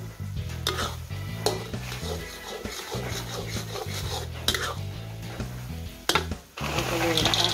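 Crispy fried Thai krong krang dough snacks stirred into a bubbling sugar syrup coating, with steady scraping and sizzling, a few sharp clanks of utensil on pan, and a droning musical background throughout.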